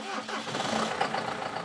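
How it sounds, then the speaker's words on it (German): A tractor engine cranks and catches early in the morning at a farm in St. Stephan, Carinthia, then settles into a steady, rumbling mid-pitched run, fairly close and loud. "Und die Bäuerin Sabine Sternig macht sich mit dem Traktor auf den Weg in die örtliche Volksschule."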